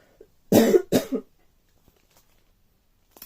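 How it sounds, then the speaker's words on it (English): A person coughs twice in quick succession, close and fairly loud, followed by near silence. "I've got a cough again."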